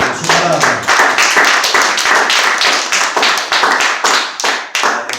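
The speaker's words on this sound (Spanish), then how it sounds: "Denle un aplauso al Señor" A church congregation clapping loudly and rhythmically together, close and energetic, with steady beats continuing throughout.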